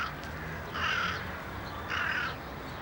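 Two crows caw in separate bursts, each a short run of harsh, raspy calls, set apart by a pause over steady outdoor background noise at moderate distance.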